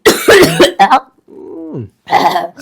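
Harsh, loud coughing bursts up close, a short pause with a strained throaty sound, then another rough cough.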